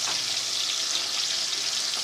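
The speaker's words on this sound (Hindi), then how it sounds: "लेकिन मैं ऐसे ही फ्राई कर रही हूँ क्योंकि इस तरह ज़्यादा मज़े का लगता है मुझे" Pieces of pre-boiled beef fry in a pan with a steady, close, loud sizzle and crackle that holds evenly throughout, with no talking.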